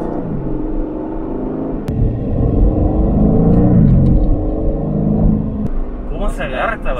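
A deep, rumbling Aston Martin sports car engine runs steadily and close, swelling louder midway as it pulls, with a muffled thump near the start.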